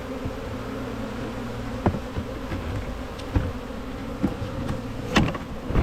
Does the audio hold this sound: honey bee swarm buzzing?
yes